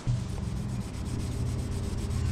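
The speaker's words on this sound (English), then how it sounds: "I'm just gonna scuff up the wheels a little bit so that the paint can stick" A scuff pad rubs over the painted wheels of a Dodge Dart to dull them before repainting, making a continuous, even scratchy rasp with quick back-and-forth strokes, close and fairly quiet, with no talk.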